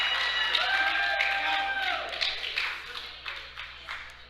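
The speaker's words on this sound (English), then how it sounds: "Let's give him a big round of applause." Audience at a powerlifting bench press meet clapping and cheering for a lifter's personal-best attempt, scattered claps and shouts that thin out into sporadic taps, with an announcer speaking over the start.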